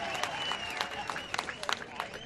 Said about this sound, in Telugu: అవును అంటే గట్టిగా చప్పట్లు కొట్టి హర్షాన్ని ఆమోదాన్ని తెలియజేయండి